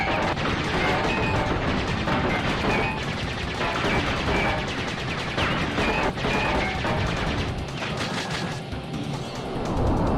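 Boss rocket launchers firing during a fight in Crash Bandicoot 3: Warped, a dense, continuous barrage of loud blasts and crashes with gunfire-like rattling throughout.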